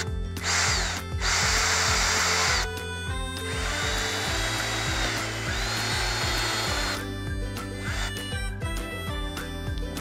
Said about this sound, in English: I have to put a hole through this container, and I'm just doing it at the very top